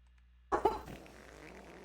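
A brief, close fart bursts out of near silence, followed by a faint fading tail of room noise.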